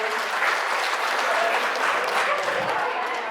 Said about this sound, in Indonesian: boleh tepuk tangan Bapak Ibu